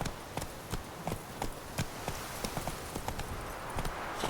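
Hooves of the horse Roach clip-clop at a steady trotting rhythm in The Witcher 3, crisp repeated hoofbeats close by over a soft outdoor background.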